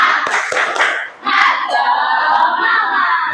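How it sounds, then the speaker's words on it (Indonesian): A primary school class at SDN Ciracas 10 in East Jakarta does a rhythmic spirit clap, children's hands clapping in quick patterns mixed with shouted chanting, loud and close throughout. "Siap. tepuk semangat."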